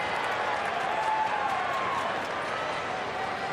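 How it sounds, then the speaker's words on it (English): Crowd roaring at an Australian football match, Sydney against Greater Western Sydney in 2015, heard as a loud, sustained stadium din with cheering and clapping throughout. "with the crowd roaring"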